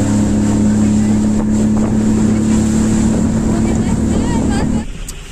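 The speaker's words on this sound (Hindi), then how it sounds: "ये स्पीड बोट स्टार्ट हो गई" A speedboat engine runs loud and steady close by on the water near Sailani Island, with strong wind buffeting the microphone, then drops away abruptly near the end.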